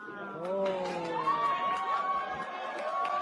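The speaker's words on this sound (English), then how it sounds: "Why are they cheering" A crowd cheers and shouts in a played news clip, a dense sustained roar of many voices with rising yells, steady and fairly loud throughout.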